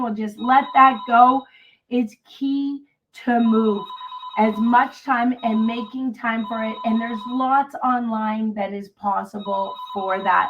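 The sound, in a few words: telephone ringing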